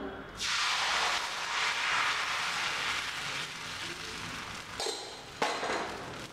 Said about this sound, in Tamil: இப்போ சட்டி நல்லா காஞ்சிருச்சு தோசை ஊற்றலாம்